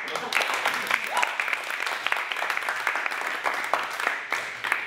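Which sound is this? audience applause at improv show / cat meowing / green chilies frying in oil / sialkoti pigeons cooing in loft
audience applause at improv show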